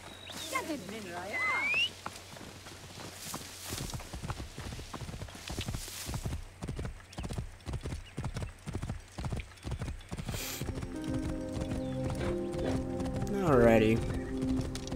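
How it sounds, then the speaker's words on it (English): Rhythmic clip-clop of horse hooves trotting steadily in Assassin's Creed Origins, with a horse whinnying near the end and a voice speaking briefly at the start. "Let's call upon the horse of the dead."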